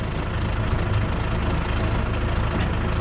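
Tractor engine idles with a steady, close low rumble, running alone without talk.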